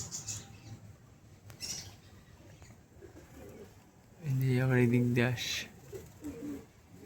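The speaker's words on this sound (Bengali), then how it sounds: "পায়রা প্রায় আজকে 1 ঘন্টার বেশি উড়ে গেল" Young pigeons, only weeks old, flying at dusk with a few brief coos and wingbeats, faint at first, then a louder burst of calling near the end, with someone talking over them.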